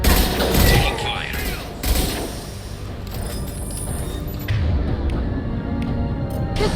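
Gunfire in Mass Effect 2 crackles through a dense firefight, with bursts and heavy thumps layered over busy game sound effects and background music, loud and continuous with occasional sharper impacts.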